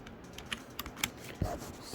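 Plastic keycaps being pried off an RK Royal Kludge RK61 mechanical keyboard with a keycap puller, giving a few soft, close clicks and taps over a quiet background.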